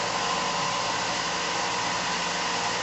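A 2-inch belt sander runs steadily and loudly near the listener, texturing an epoxy resin knife handle, giving a constant broadband whir with no breaks or talk.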